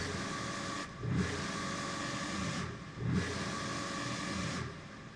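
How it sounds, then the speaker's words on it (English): A Dragon Roar sound sample plays back at normal speed in a sampler, a gritty, engine-like growling roar in three repeated swells separated by short dips, alone without voices. "This is the Dragon Roar unstretched"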